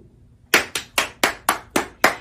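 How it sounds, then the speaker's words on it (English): Children in an audience clap together in unison, about seven sharp, evenly spaced claps that start after a brief quiet moment and ring close and loud. "give yourselves a big round of applause"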